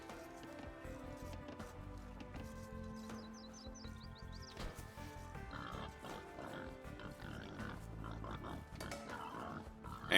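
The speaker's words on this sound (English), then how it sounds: "Luring my first boar now." A boar being lured in the Age of Empires II video game, with pig-like grunts and oinks mixed into game music and interface sounds, fairly quiet and without talk.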